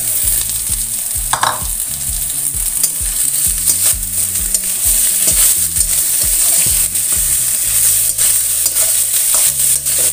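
Vegetarian mushroom-based mince fries in a pan, a constant bright sizzle broken by repeated scraping and stirring strokes of a utensil, close and loud.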